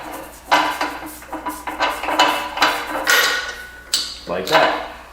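Big wrench being turned on a Cleveland Punch & Die ironworker punch: a run of sharp metallic clanks and ratcheting knocks in an irregular rhythm, close and loud, with a little speech in the background.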